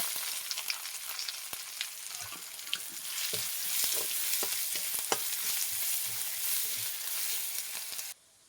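Garlic frying in hot oil with a soft, steady crackling sizzle and occasional stirring taps, fairly quiet and close, stopping abruptly near the end.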